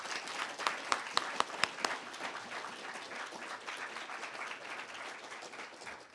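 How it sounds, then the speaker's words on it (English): An audience at a lecture breaks into applause, a dense wash of many hands clapping with a few sharp individual claps near the start, fading slightly toward the end. "great effort of Professor Susan Martinozzi, for whom I ask for a big round of applause."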